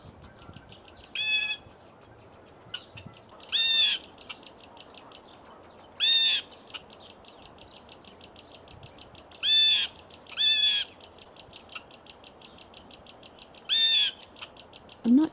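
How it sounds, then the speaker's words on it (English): A blue jay calls noisily near a lake, sending out several harsh, ringing bursts spaced a few seconds apart over a faint steady background. "This one was between a blue jay who was calling noisily with two squirrels."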